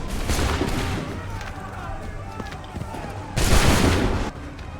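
Musket volleys in Assassin's Creed III crack out as dense bursts of gunfire, an early roar of shots, scattered reports, then a second loud volley near the end, with shouted voices in the din.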